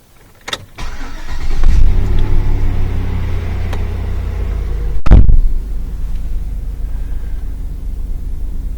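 A GMC Yukon engine cranks and catches after a soft click, then settles into a loud, steady idle rumble, with a second thump partway through and no talking.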